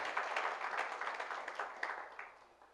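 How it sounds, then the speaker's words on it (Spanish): A church congregation applauds in a steady patter of many hands, faint and somewhat distant, with a few scattered louder claps and no clear speech. "Dale un aplauso al Señor"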